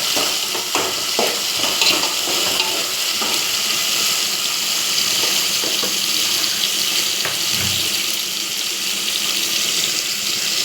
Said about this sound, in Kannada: ಫ್ರೈ ಆಗ್ತಿದೆ.